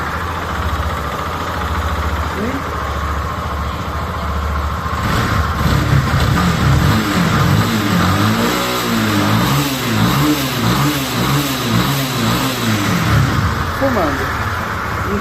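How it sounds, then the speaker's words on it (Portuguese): A 2014 Yamaha Fazer 250 motorcycle engine runs steadily up close with an abnormal noise, turning over at idle and rising with revs, while a person talks over it. "Ela tá com um barulho anormal."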